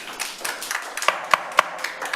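A few people clapping at a city council meeting in Laramie, Wyoming, scattered, uneven claps with several sharper hand strikes, fairly close and short-lived, with no talk over it.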